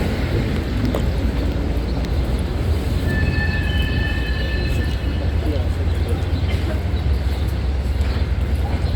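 Trains rumble steadily through Zagreb's main square, with thin metallic wheel squeals rising midway under a constant low drone and nearby voices.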